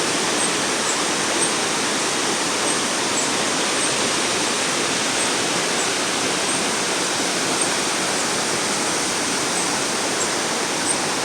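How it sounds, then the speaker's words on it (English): Steady rushing water fills the whole clip, a dense, continuous broadband roar like a nearby waterfall or fast stream, with no other sounds. "So you have the sound of the water, so you have that white noise."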